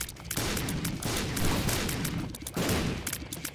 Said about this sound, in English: You just sit and chill while the explosions do the work.